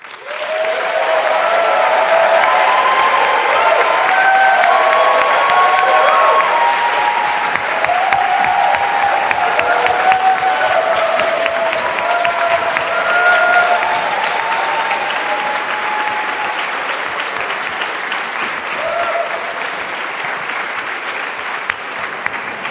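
Long, sustained applause from a graduation ceremony audience for a master's program speech, loud and dense clapping lasting over twenty seconds with faint voices and cheers mixed in, gradually easing toward the end.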